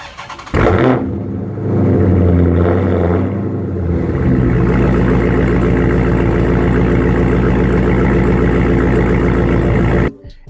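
A V8 muscle car engine fires up and rumbles loudly, with a quick rev followed by a steady deep idle that carries on for several seconds before it cuts off, heard up close with no talking.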